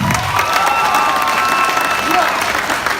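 A comedy club crowd at the 9:30 Club claps and cheers when asked who favors spanking children, a loud, continuous burst of applause with shouts and whoops mixed in throughout.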